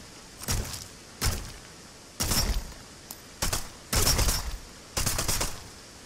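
Rifle fire in the video game Immortal Legacy: The Jade Cipher, six loud bursts of rapid shots spaced about a second apart, each a short rattling volley, with no voices over them.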